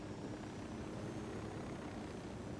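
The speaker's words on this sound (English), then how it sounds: "This is a sneaky, sneaky helicopter." A helicopter flies in the video game Ghost Recon Wildlands, giving a steady, fairly faint rotor and engine drone that holds even throughout with no talking.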